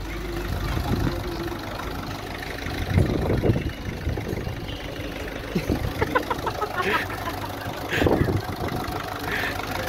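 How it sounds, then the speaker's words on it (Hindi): A Ford car engine, taken out and started by a mechanic-training student in a garage, idles with a continuous low rumble and intermittent knocking pulses. "ये फोर्ड का इंजन इन्होंने स्टार्ट कर दिया है"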